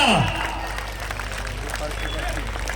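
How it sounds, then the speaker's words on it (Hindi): A large crowd at a BJP political rally in Jind, at a Saini community Mahakumbh event, applauds loudly in a dense, continuous wash of clapping that stays strong throughout, with crowd noise mixed in. "जोरदार तालियां"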